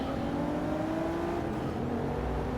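A Volvo S60 races in Forza Motorsport 6, its engine holding a steady, loud, high drone with a slight shift in pitch partway through, alone and with no voices.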